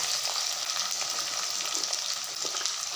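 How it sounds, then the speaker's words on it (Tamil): Onion sizzles in hot oil in an iron kadai for bajji chilli mixed rice, a dense, loud, continuous crackle close to the pan, with no speech. "எண்ணெய் நல்லா கொதிச்சிருச்சு. இப்போ நம்ம வெங்காயத்தை ஆட் பண்ணிக்கலாம்."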